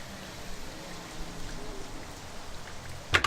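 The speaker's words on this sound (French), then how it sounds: "Et surtout, on rajoute de la pluie." Layered rain sound effect, a steady hiss of falling rain and drops on surfaces, with one brief louder splash or knock near the end.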